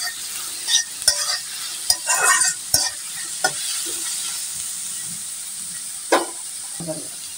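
Onions frying in a pan as chicken curry gets started. A bright, constant hiss runs under several sharp scrapes and clacks of the stirring spoon, loud and close, with no speech.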